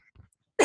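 A single short cough bursts out near the end after near silence, loud and close.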